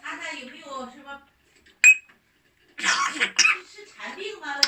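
A pet parrot fakes a cough indoors: a single sharp, close cough-like burst, then a few harsher throaty bursts, with a person talking around them.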